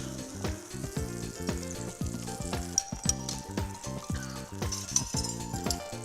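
Thin slices of pork belly sizzle as they reheat in a restaurant kitchen for a pork belly bun, a steady close frying crackle with faint clinks of utensils over the top.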